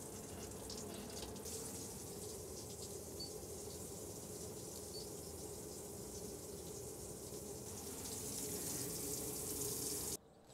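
Water runs steadily into a motorhome waste tank, a continuous hissing gush at close range that swells slightly louder near the end before cutting off abruptly.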